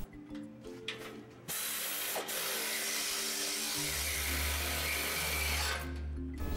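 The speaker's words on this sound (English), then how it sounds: "Install the exhaust heat shield and tighten the bolts." Bolts are tightened on the belly pan of a 2007-2014 Toyota FJ Cruiser, giving a steady, close mechanical rasp of tool noise that runs almost unbroken after a few scattered knocks at the start.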